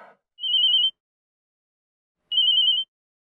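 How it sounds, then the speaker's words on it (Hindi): Two separate electronic phone rings, each a steady high-pitched tone lasting about half a second, with a long silent gap between them in an office setting. "Why is your phone ringing"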